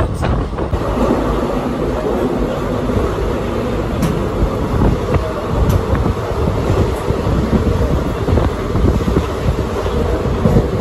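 Holi special passenger train running on a Sunday service near Bardhaman Junction, heard from inside a general compartment as a steady loud rumble with wind buffeting and faint rattles throughout.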